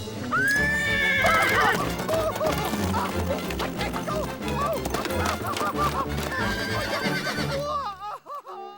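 Cartoon horse lets out a loud, drawn-out whinny while hooves clatter in a quick galloping rhythm, all set against busy orchestral music.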